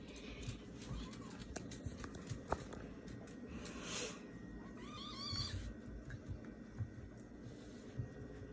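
A kitten meows indoors while playing with a puppy, giving a few short, faint mews, including a rising two-part call midway, under soft rustling and occasional quiet voices.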